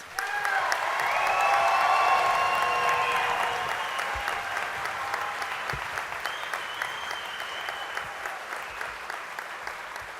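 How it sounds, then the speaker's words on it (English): Audience applause for graduating candidates at a summer commencement ceremony, loud sustained clapping that swells for a couple of seconds then gradually thins out, with scattered cheers early on. "let's give our candidates a round of applause"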